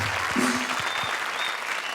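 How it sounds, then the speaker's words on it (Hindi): A studio audience at a Hindi TV comedy show claps in a dense, steady burst of applause that holds evenly throughout, with no speech. "जोरदार तालियां।"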